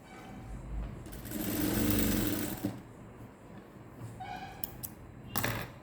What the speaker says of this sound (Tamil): ஷோல்டரை கட் பண்ணி தைச்சி ஒரு லாங் ஸ்டிச் போட்டு அதே இடத்துல நிறுத்திக்குவோம்